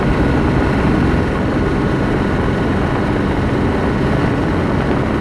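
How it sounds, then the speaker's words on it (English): Loud, steady drone of gearbox whine and exhaust roar from a 1990 two-door Range Rover cruising at 70 mph around 2,700 RPM, unbroken throughout with no talking. "while there's a lot of noise, it's because there is nothing protecting my ears from the gearbox and the exhaust"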